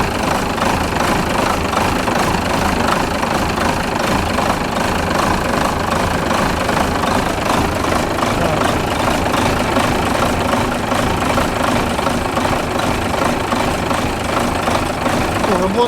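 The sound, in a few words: Renault Major tractor engine running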